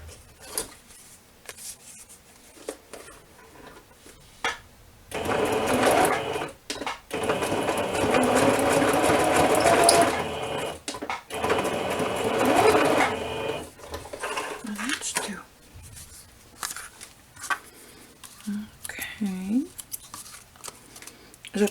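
Sewing machine running zigzag stitches along fabric for scrap tags, two bursts of steady close whirring separated by a short pause, with quiet handling sounds before and after and a voice speaking at the end.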